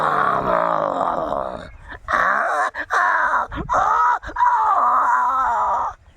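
A voice mimics a tiger growling during a hunt, with long rumbling, wavering groans that break into several choppy bursts before trailing off.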